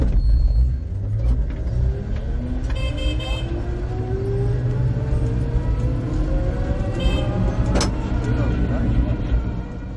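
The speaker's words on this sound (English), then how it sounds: "And then there's this, the Beijing bubble car, uniquely Chinese." A Beijing bubble car, a small Chinese microcar with a top speed of about 35 mph, drives through busy back-alley traffic, its engine a steady low rumble close by with a horn toot near the end and voices talking underneath.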